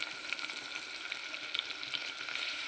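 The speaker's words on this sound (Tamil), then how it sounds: "இது நல்லா ஃப்ரை ஆகட்டும்." Steady, loud sizzling and crackling of onions, green chillies, curry leaves and mint frying in hot oil for chicken chukka, close up, with occasional stirring scrapes and no voices.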